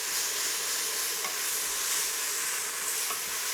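Vegetables for a roasted vegetable soup sizzle steadily in a pot after a splash of apple cider vinegar, a constant bright hiss with faint stirring scrapes, close and even throughout.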